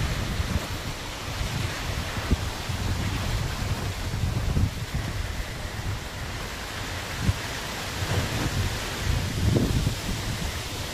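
A strong typhoon roars steadily in Las Piñas City, Philippines, with gusting wind and heavy rushing noise that swells and surges at times, loud and continuous with no voices.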